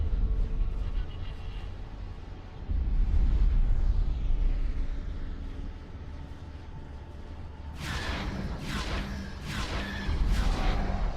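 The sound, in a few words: explosion from the video game X4 Star Wars Interworlds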